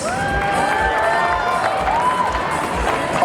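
Cheering and whooping from a crowd at the Caribana kick-off outside police headquarters in downtown Toronto, loud and sustained with scattered clapping and high shouted voices.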